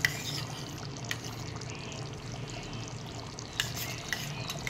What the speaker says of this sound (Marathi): 4 ते 5 चमचे हे फ्रेश क्रीम घालत आहे